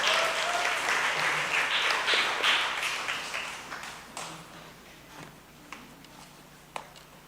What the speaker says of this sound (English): So give a round of applause for Ariel and Rihanna.